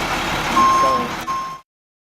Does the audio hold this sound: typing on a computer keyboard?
no